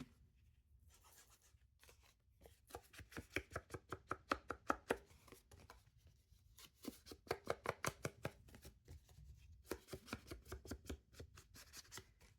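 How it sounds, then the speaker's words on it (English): Scissors trimming tissue paper at a craft table for journaling cards, a quick series of crisp snipping and rustling cuts in bursts with short pauses, close and clear. "Just trim off that bit of tissue paper."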